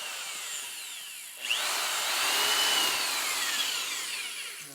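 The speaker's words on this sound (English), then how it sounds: "we'll drill this 1/2 inch pilot hole" A laser-guided power drill bores a 1/2 inch pilot hole into a log stair handrail, a steady high whine of the bit cutting wood that starts abruptly and holds loud and close for several seconds.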